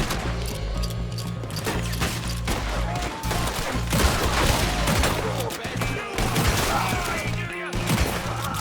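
Rapid gunfire from a Red Dead Redemption 2 town shootout, a loud, dense fusillade of overlapping shots and impacts running continuously, with in-game shouting and faint voices mixed in.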